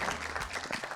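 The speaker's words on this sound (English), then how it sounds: "Let's give a round of applause." Applause from a live audience at a celebrity acting session, steady dense clapping through a brief second with a few murmuring voices mixed in.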